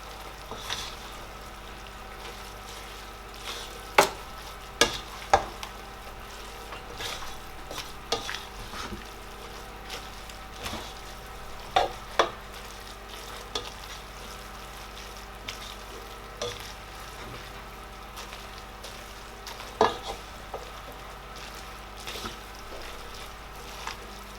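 Vegetables and spring onions cooking in a pan for coconut milk spaghetti, with a steady low sizzle and occasional sharp clicks and scrapes of stirring, close and continuous with no voices.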